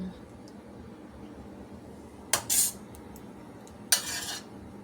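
A spoon stirs kabuli chana sundal in a metal pan, giving two short bright scraping clatters a second or so apart over a quiet background.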